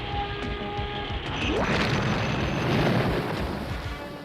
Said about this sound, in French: le pulvérisateur à photons vise la lune d'Eternia. Il tire des rayons à photons.